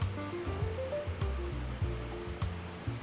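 Liquid drains from cooked chicken being made into smoked chicken, a steady close splashing pour that keeps going without a break.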